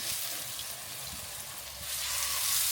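Honey-glazed salmon fillets sizzle steadily in a hot pan, a close, continuous hiss and crackle that swells slightly near the end as the pieces are turned.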